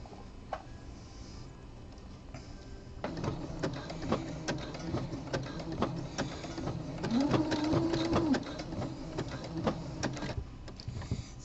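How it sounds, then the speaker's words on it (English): Sewing machine stitching a curved seam on a sport brief, a close rapid mechanical clatter starting after a quiet pause and running steadily, with a brief whirring hum rising midway. "I'm going to be sewing this one edge up"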